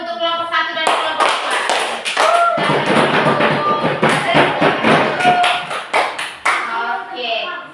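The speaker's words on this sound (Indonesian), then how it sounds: "Tepuk tangan dulu untuk kelompok 1 dan kelompok" A classroom full of students clapping together for two student groups, a dense sustained burst of applause lasting several seconds with voices mixed in.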